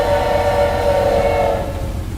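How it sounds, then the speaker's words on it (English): A train rumbles past in a horror video game, a loud continuous low roar with a sustained horn-like tone on top, steady throughout and slightly fading at the end, with no talk over it. "Train."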